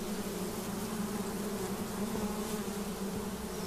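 Africanized honeybees swarm around their hives after being disturbed, a dense, continuous buzz from many insects holding steady and loud throughout, with no voices.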